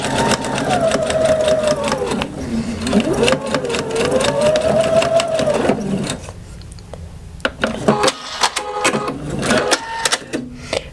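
A sewing machine stitching and back stitching fabric strips for bias tape runs in a loud, close, rapid mechanical whir with a rising and falling motor tone, stops briefly, then starts again in choppier bursts.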